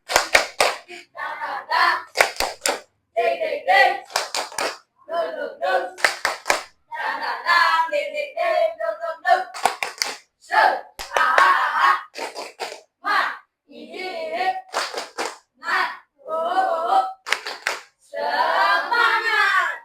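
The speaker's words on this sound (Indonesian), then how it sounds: "Tepuk semangat." A classroom of children doing a rhythmic spirit clap, quick patterned bursts of claps mixed with chanted voices, repeated in short groups for about twenty seconds, loud and close.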